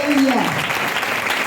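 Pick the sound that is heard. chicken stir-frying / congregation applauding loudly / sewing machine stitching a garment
congregation applauding loudly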